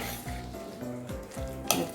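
Seasonings being mixed in a sizzling pan with ground spices, salt and stock powder, a continuous frying hiss under rhythmic scraping strokes of a utensil, ending with a sharp clink against the pan.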